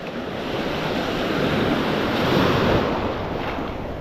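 Ocean waves wash steadily onto Sunset Beach, a loud continuous surf roar with wind noise, swelling slightly toward the middle and alone without voices.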